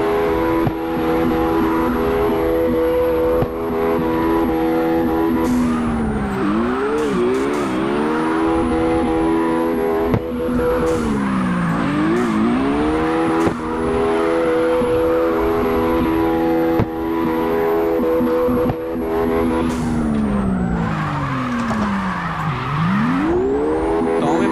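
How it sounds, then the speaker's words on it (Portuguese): Nissan 370Z drifting at speed in CarX Drift Racing Online, with a loud sustained engine drone and harmonic pitch sweeping up and down as the revs rise and fall, plus a steady high tire-squeal whine running throughout. "Fazendo drift a 100 por hora, velho."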